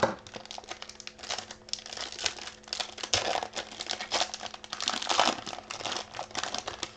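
Foil wrapper of a 2020 Topps UFC Knockout trading card pack torn open up close, with steady crinkling and crackling rustles running continuously throughout, with no talk.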